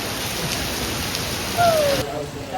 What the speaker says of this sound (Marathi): लय पाऊस आहे इथे लय पाऊस आहे